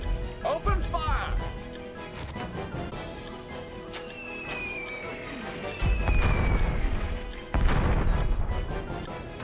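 Artillery booms in the Warhammer: Dark Omen real-time tactics game, with heavy blasts and crashes scattered through continuous battle noise and a game voice calling out.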